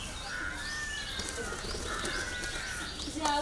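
A pigeon bursts into flight, wings flapping quickly and clattering up close, with faint bird calls and cooing mixed in against steady outdoor background noise.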